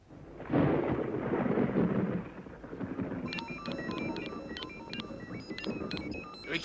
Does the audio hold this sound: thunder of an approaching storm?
yes